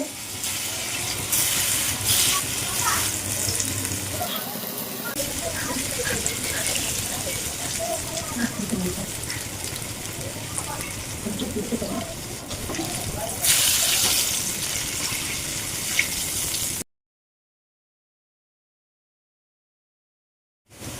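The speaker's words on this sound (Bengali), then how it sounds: "আমার তেলটা হয়ে গেছে আমি ধোকাগুলো ভেজে নিচ্ছি" Lentil cakes (dhoka) sizzling and frying in hot oil, a continuous loud, close crackle for most of the stretch before cutting off abruptly into silence.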